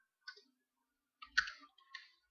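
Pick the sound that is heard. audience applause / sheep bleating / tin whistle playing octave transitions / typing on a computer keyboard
typing on a computer keyboard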